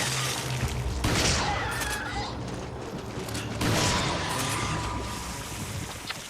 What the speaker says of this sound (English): What are you shooting at? Good shot.